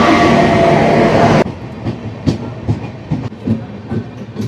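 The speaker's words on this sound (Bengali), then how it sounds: "4 নম্বর প্ল্যাটফর্মে ট্রেন ঢুকছে।" A passenger train pulls into platform 4 at a railway station, with loud roaring rumble giving way to a steady rhythm of wheel clacks over rail joints, close and prominent with no talk.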